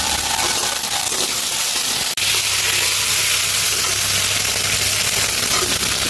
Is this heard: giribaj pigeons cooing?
no